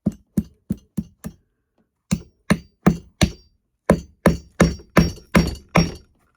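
A hammer taps repeatedly while a sewing chair is being reupholstered on a table. Three quick bursts of sharp, close knocks with short pauses between them.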